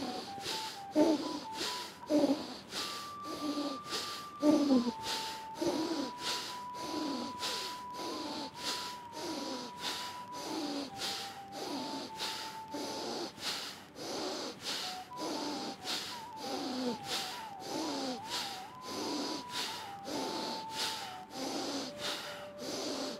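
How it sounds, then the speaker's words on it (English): Pranayama shoulder breathing practice with deep, forceful inhales and exhales repeating steadily and close, each breath a rough airy rush, under a sustained soft background drone. "Now let's do one more round, shoulder breathing."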